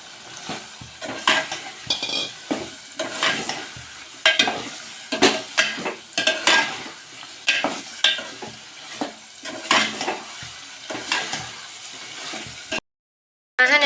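Chopped elephant foot yam (suran) stirred and fried with spices in a pan, repeated scraping stir strokes over a steady sizzle, close and fairly loud, ending with a short silence.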